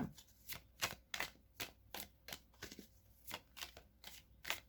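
Tarot cards are shuffled by hand for a reading in a steady series of soft riffling flicks, close and quiet with no voices over them.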